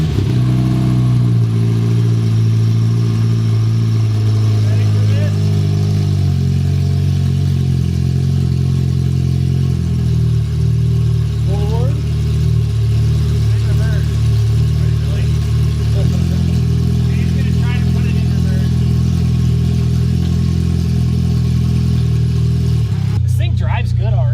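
A Toyota MR2 with a swapped K24 engine runs up on a lift, its steady mid-pitched engine drone holding loud and close throughout with slight shifts in pitch, while voices talk over it.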